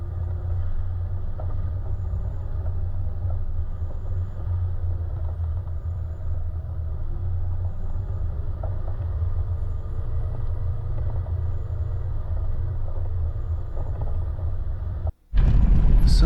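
A Toyota 76 series 4WD in third gear low range rolls down a steep mountain track with a steady low engine rumble and drivetrain drone close inside the cab, ending in a brief dropout and a burst of noise.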